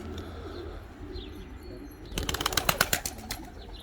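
A flock of pigeons bursts into flight, a rapid flurry of loud wing flaps starting partway through over quiet outdoor ambience, fading toward the end.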